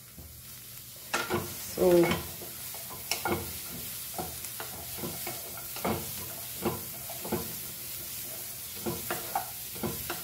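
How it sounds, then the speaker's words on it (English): Pork for Goan pork aad maas dry-roasts in a pan with no oil, giving a soft, steady sizzle broken by repeated scraping stir strokes at an uneven rhythm; a voice briefly says a single word. "Just will saute it for a few minutes."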